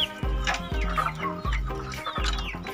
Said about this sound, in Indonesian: ayam Bangkok ya, yang saya pelihara di kandang ini